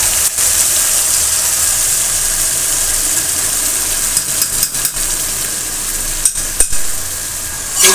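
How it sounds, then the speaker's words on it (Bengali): Eggplant, potato and green chili frying in a hot pan give a loud, steady sizzle that stays constant, broken by a few brief knocks toward the end. "এখন দিয়ে দেবো হচ্ছে বেগুন আলু, দিয়ে দেবো হচ্ছে কাঁচামরিচ"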